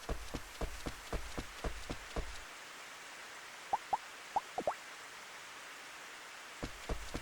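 Gentle rain in the video game Rune Factory 2, a soft steady hiss with a series of light ticking drops at first, then a few sparse chimes and taps over a quiet wash.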